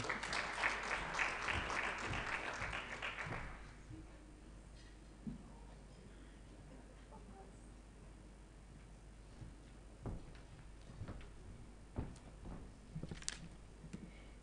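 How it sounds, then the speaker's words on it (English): Applause from the audience at the Transform Africa Summit 2019 launch, a broad burst of clapping that fades after about three seconds, leaving a quiet hall with scattered faint knocks and shuffles. "Another round of applause for Claudette."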